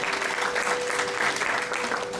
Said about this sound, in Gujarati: એક વખત જોરદાર તાળીઓ થઈ જાય મહેન્દ્રભાઈ માટે